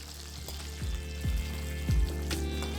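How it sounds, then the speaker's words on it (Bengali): Chicken pakora deep-fries in hot oil over a high flame, giving a steady close sizzle with a few soft bubbling pops and light clinks repeating every half second or so. "হাই ফ্লেমে এটাকে একদম ক্রিসপি করে আপনাদের ফ্রাই করে নিতে হবে।"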